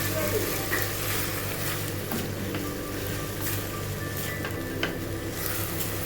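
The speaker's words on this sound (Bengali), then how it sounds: "এবারে ভাজা ভাজা করবো আস্তে আস্তে।" Marinated chicken frying in a pan with ginger and garlic for a Bengali dhaniya chicken dish, giving a steady, dense sizzle that runs throughout with light stirring scrapes, close and fairly loud.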